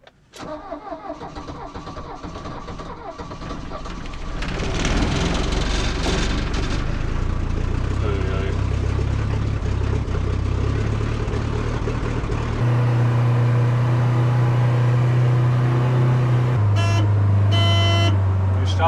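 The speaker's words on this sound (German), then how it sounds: "Eine Schwierigkeit bei der Höhe mit zu wenig Sauerstoff und der Kälte ist natürlich den Motor anzumachen." A vehicle engine is started in thin, cold high-altitude air in the Himalaya between India and China, with a rough cranking build-up catching into a steady loud idle that holds, shifting pitch partway, while people speak faintly in the background.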